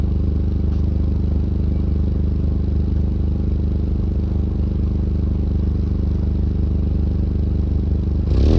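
Toyota GR Corolla engine idling with its exhaust in quiet mode, a steady low rumble that stays even and unchanging, close and alone.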